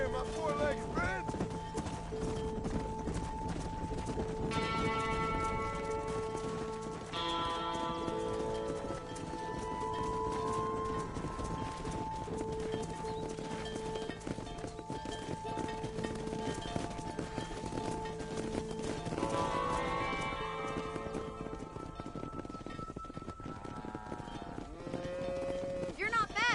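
Horses and cattle hooves clatter while a herd is driven in the Red Dead Redemption video game, a steady clip-clop under a continuous musical score, with occasional animal calls and shouted voices.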